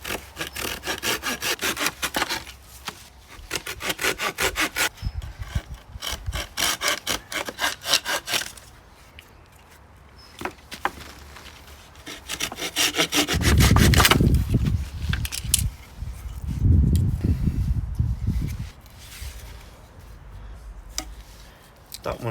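Handsaw cutting through a stick of wood to make a bow drill spindle, steady rhythmic rasping strokes up close, pausing partway then resuming with heavier, lower strokes.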